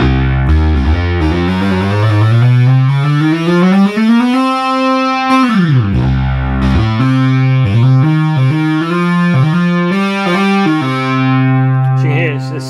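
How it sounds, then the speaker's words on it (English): A restored Minimoog synthesizer plays a loud, buzzy, distorted lead line with all three oscillators stacked, gliding up and down in pitch with sliding portamento and shifting notes, sounding alone. "David, this is your Minimoog with all three oscillators."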